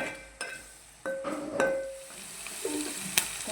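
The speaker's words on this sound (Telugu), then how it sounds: "ఉల్లిపాయ త్వరగా వేగటానికి కొద్దిగా సాల్ట్ వేసుకుంటే ఫాస్ట్గా వేగిపోతాయి" Onions frying in a pan with salt give a faint, steady sizzle, broken by a few light stirring scrapes and clinks of a utensil against the pan.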